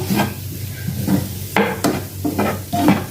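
Prawns are being sautéed with masala in a pan for prawn thokku, with a steady sizzle under repeated scraping strokes of a spoon stirring close by.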